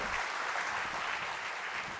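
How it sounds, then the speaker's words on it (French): Audience applause in a conference plenary hall on comfortable living spaces, a dense steady wash of clapping from a large seated crowd, moderately loud and unbroken throughout. "On peut l'applaudir."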